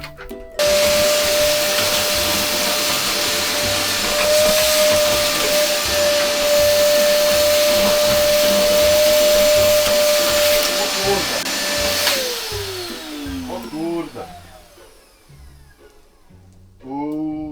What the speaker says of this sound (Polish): skorzystamy z odkurzacza